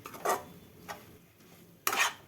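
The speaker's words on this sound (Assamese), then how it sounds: "নাৰিকল আৰু গাজৰখিনি আৰু অকণমান সময় ভাজিম" Grated coconut and carrot fry together in a pan for laddu while a spatula stirs them. Three short scraping strokes come over a quiet background, the last one strongest, with no speech.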